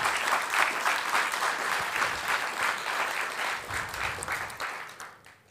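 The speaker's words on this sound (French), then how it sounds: "Merci de les applaudir très fort," A literary event audience applauds loudly, with dense clapping from many hands holding steady for about five seconds and then fading out.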